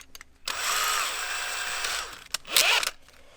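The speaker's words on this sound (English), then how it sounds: "So I'm gonna just put that on the drill." A power drill fitted with a sanding bit whirs at high speed for a second or so, stops, then buzzes again briefly, close by.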